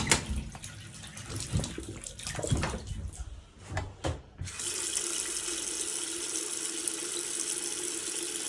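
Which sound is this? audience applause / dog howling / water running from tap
water running from tap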